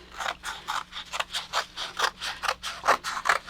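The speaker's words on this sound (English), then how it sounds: "I'm going to cut along that line" Scissors snip rapidly through square paper, a quick rhythmic series of close, crisp cuts and scraping closes, about three or four per second with no talking.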